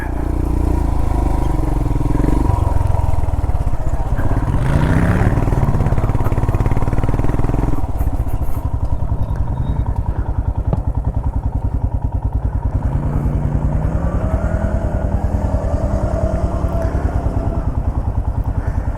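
A Royal Enfield Himalayan motorcycle labours up a hill near Red River, New Mexico in second gear, its engine a loud, steady mid-pitched drone with clattering and shifts in pitch, close and continuous throughout.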